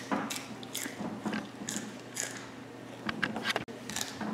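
Raw vegetables, including celery and peas with stems picked off, being bitten and chewed up close, with a run of crisp crunching bites and chewing in an otherwise quiet room.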